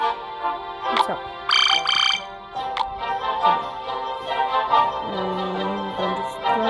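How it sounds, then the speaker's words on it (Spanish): Toads croak in a video game, a short burst of stacked, buzzy croaking standing out over steady game music and effects, with other chirps and tones scattered around it. "sapos."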